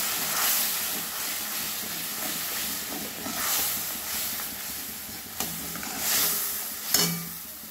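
Ground spice paste with powdered spices and a splash of water sizzles and hisses steadily in a pan for hilsa curry, with a few sharp clatters of stirring near the end.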